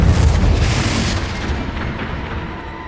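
Confringo blasting spell exploding in the Hogwarts Legacy video game: a loud, close booming blast at the start whose rumbling roar slowly fades over the following seconds.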